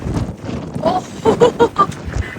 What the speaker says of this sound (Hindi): बहुत तेज हवा चल रही है, बहुत तेज।